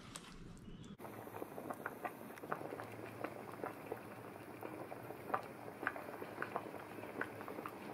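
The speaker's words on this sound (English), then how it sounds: "get it down to a low simmer for about 15 minutes" A pot of Sri Lankan mango curry bubbles at a low simmer, a quiet patter of small bubbles popping irregularly over a soft hiss after a brief muffled start, faint and close with no voices.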